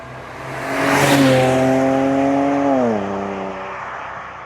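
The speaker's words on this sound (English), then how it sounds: "we're on a big open stretch of road, ready to get some flybys. Let's see what these cars sound like." A BMW with a B58 engine or a twin-turbo N54 sweeps past on an open road, its engine rising to a loud peak as it nears and then dropping in pitch as it pulls away, heard alone without talk.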